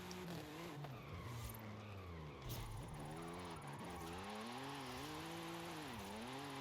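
A BMW G82 M4 drifting in Forza Horizon 5, its tires squealing in long wavering screeches over a steady engine drone, close and continuous with no voices.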